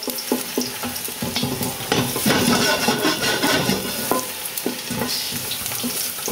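Garlic toasting in hot garlic oil in a pan, a bright steady sizzle broken by repeated scrapes and knocks of a wooden spoon stirring, close and fairly loud, no voices.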